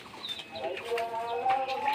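Sonali chickens on a poultry farm in hot weather cluck and murmur nearby, a busy, continuous flock chatter with overlapping calls.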